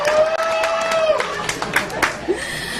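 Audience at a stand-up comedy show clapping, a light scattered patter of hands under crowd murmur and room noise, modest in size and steady through the moment.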